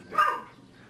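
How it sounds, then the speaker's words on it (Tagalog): Dogs belonging to a sibling give a short bark or yip close by, a single brief burst followed by quiet room tone. "mga aso ng kapatid ko."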